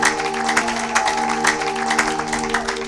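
A church congregation applauds, loud steady clapping from many hands with a sustained organ or keyboard tone underneath.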